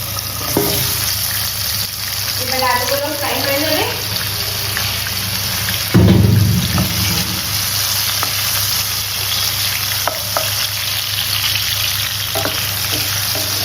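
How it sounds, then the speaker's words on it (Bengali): Potatoes fry in a pan with a constant loud sizzle throughout, broken by occasional stirring clatter and a brief deeper thump near the middle, with faint voices in the background. "এবার আলুগুলো ফ্রাই"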